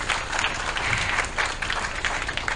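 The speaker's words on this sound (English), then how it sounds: "Please give them a round of applause." A crowd applauds women panelists seated on stage at a leadership dialogue, a dense, even wash of clapping that holds steady throughout.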